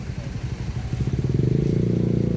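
A taxi drives slowly past through a garden plant market, its engine a close, low rumbling drone that swells louder as it nears.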